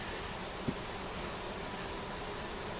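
Honey bees crowd on top of a top bar hive during cross-comb repair, their dense, even buzz filling the scene close up, constant and loud with no pauses or voices.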